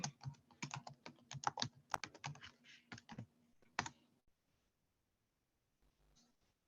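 Fast bursts of typing on a computer keyboard, quiet and close, with clustered key clicks for a few seconds before trailing off into near silence.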